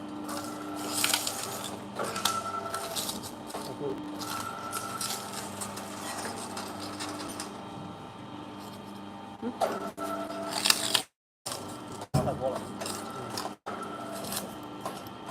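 Mini shredder with a 1.5 power motor shredding a flash disk, giving a steady grinding, crunching churn with scattered cracks and clatter, loud and close, ending in brief stops and restarts near the end.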